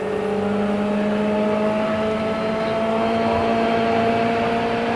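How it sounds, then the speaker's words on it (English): A 1995 CART race car at Michigan is driven slowly back and forth, its engine giving a steady droning tone that holds level throughout, heard from a distance through a broadcast mix without talk. "He's just working his car back and forth now, feeling to make sure he doesn't have a tire going down."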